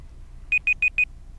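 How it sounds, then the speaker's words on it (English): Four short, evenly spaced electronic beeps ring out clearly over a quiet background, each a clean tone of equal length in quick succession. "Guys, we have beeping."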